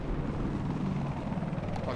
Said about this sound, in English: Locking on to the helicopter.